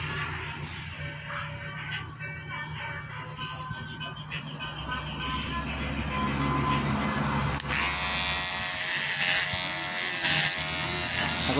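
An electric hair clipper buzzes steadily while cutting hair, a close continuous hum that grows slightly louder partway through.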